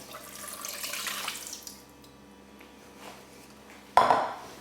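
Liquid poured into a pot on a home cooker while making a Japanese-inspired dish, a steady splashing wash for about a second before quieter kitchen ambience, then a sharp clatter of pot or utensil near the end.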